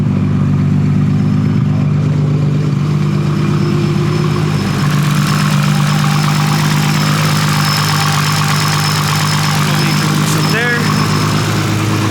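A Nissan Skyline R32 GT-R with its RB26 engine idles just after an oil change, a loud, steady low rumble that runs unbroken throughout with a brief higher blip near the end.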